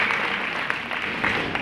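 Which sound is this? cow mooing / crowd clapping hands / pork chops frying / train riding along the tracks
crowd clapping hands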